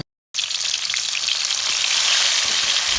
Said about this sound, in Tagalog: Ginisa ko na nga pala tong sibuyas, bawang at kamatis guys.